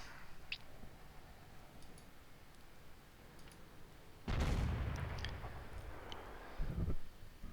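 A single loud tank cannon blast from an AMX ELC bis light tank in World of Tanks booms out after a stretch of quiet ambient clicks, followed by a rumbling tail and a second thud near the end.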